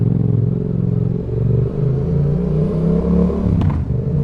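A Yamaha MT-07 motorcycle with a Roadsitalia titanium exhaust and the baffle removed idles and revs close by. A loud, continuous throaty rumble rises and falls through several blips, with a sharp pop near the end.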